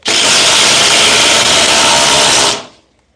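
A cordless oscillating multi-tool, Milwaukee 2836-20, Flex FX4111-Z or Dewalt, cuts through material with a loud, steady high-pitched buzzing rasp for about two and a half seconds before stopping abruptly, then silence.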